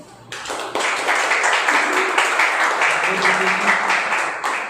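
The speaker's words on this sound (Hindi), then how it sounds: "क्यों ना हम परमेश्वर के लिए ताली बजाएं।" A church congregation at a Sunday evening service breaks into sustained clapping, starting abruptly after a brief pause and holding a loud, even roar of many hands with a few voices under it.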